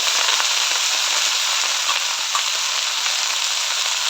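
Red amaranth greens hit a hot pan and sizzle loudly and steadily, a dense, continuous frying hiss up close with no voices.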